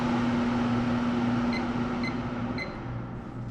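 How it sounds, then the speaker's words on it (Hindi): A kitchen exhaust fan runs as a steady, fairly loud broadband whir with a low hum, alone and without talk, easing slightly quieter toward the end, with faint beeps near the end. "एग्जॉस्ट भी चल रहा है"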